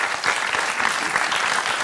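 Steady, dense applause from a small crowd of people, close and loud, continuing evenly without a break.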